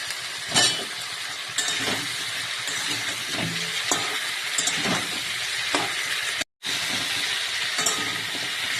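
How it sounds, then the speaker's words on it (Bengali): Cauliflower, potato and carrot frying in a pan give a steady broadband sizzle with occasional sharp clinks and scrapes of stirring, and one abrupt brief dropout near the end. "কফিটা বেশ লাল লাল করে ভেজে নিচ্ছি"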